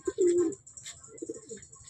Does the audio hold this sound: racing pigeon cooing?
yes